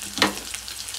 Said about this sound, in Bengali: পেঁয়াজটা বাদামি হওয়া পর্যন্ত নাড়াচাড়া দিতে হবে।